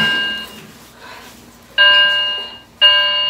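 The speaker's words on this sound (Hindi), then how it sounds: "अभी रात के 12:30 बजे हैं और शायद कोई अलार्म बज रहा है फायर का।" A building fire alarm rings late at night in an apartment block, sounding as loud electronic bell-like tones in three separate bursts, the first fading out before two more sharp bursts start abruptly.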